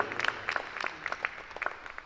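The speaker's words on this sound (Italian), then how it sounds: "veramente, veramente un applauso con il cuore" An audience at an Italian book presentation claps briefly, a light, fairly faint patter of separate hand claps from a small group.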